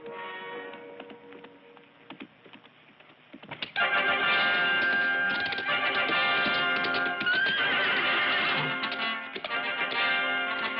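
A horse whinnies loudly amid busy background activity, with hoof clip-clops and scattered taps; the sound grows fuller and louder partway through.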